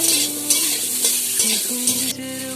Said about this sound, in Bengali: এরপর আমড়াগুলো দিয়ে দেব, দিয়ে একটু ভালো করে নেড়ে নেব